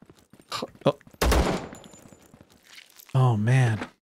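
Gunfire in the ZERO Sievert video game: a few short, sharp bursts of shots, with a loud cluster near the middle and someone talking around them.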